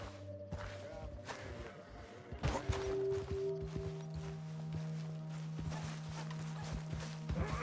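Horse hooves from Red Dead Redemption 2 clop in an irregular, close walking rhythm from a spooked white horse, with game ambience and sustained tones behind them.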